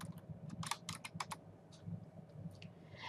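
Typing on a computer keyboard while entering a slide title, close quick bursts of light key clicks with short pauses between them.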